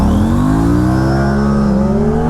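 An Aprilia RS 457 and a Kawasaki Ninja ZX-4R launching in a drag race, engines roaring loud and close with a rising pitch as they accelerate hard.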